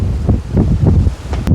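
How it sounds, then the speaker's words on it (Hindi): Strong mountain wind gusting in a hilly village area on a summer day, a steady low roar with rising and falling surges, close and fairly loud, with no voices. "तेज़ हवा चलने की आवाज़ आपको सुनाई दे रही होगी।"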